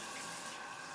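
Tap water runs steadily for a full second during handwashing, a close, even splashing hiss with no break or voices.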